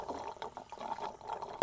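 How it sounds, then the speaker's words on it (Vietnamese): Cartoon pigs Peppa and George noisily slurping orange juice with their parents, soft gurgling sips with a louder bubbling slurp at the end, close and wet. "Hai đứa con uống nước ồn ào quá"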